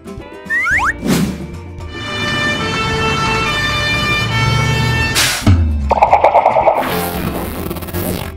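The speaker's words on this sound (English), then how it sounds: "Fire truck." A fire truck siren wails loudly and steadily up close with a long tonal sweep, broken near the end by brief clanks and a harsher rising burst, in a children's street-vehicle compilation.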